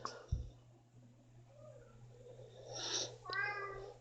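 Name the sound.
cat meowing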